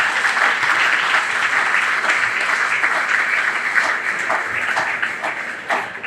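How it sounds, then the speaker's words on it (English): At a county fair opening ceremony, a crowd gives a warm, sustained round of applause, an even dense clapping that holds steady and begins to taper near the end. "So please give them a warm round of applause."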